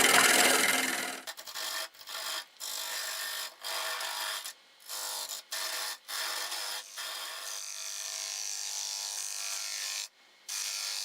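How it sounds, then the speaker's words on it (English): A square carbide tool scrapes across a spinning catalpa wood bowl on a lathe to flatten it, a loud rasping hiss that repeats in short passes broken by brief pauses. "Just going to use my square carbide to flatten this off."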